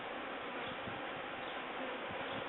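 A honeybee swarm freshly caught from a pine tree near an apiary, heard as a faint, continuous, even buzzing drone with no other sounds.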